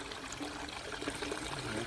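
Runoff water after heavy rain trickles steadily out of a village farm field, a continuous close, even wash of flowing water with no pauses.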